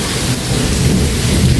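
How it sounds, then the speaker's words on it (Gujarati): A loud, close thunder rumble rolls over heavy rain during a storm in Ahmedabad, with no voices. "વીજળીને વરસાદ ગાજવાનું ચાલુ જ હતું"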